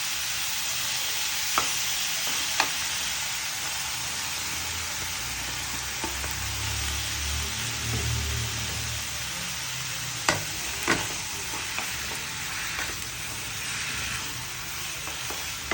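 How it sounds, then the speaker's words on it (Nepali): Capsicum and chopped tomato frying in a pan for jhol thukpa, a continuous moderate sizzle with occasional spatula clicks and stirring, heard alone without talk. "अब यसलाई चाहिँ हामी भुट्न चाहिँ अलिक एकछिन भुट्ने"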